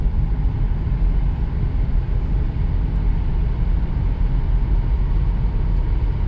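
A 2000 Dodge Grand Voyager minivan cruises at highway speed, giving a steady broadband road and wind rumble from inside the cabin, continuous and even throughout with no voices.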